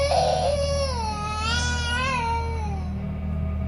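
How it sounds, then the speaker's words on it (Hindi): Many children crying together as a horror-story sound effect, loud wailing cries that rise and fall in overlapping pitch for several seconds before trailing off. "ध्रुव को एक साथ जैसे कई बच्चों के रोने की आवाज आई"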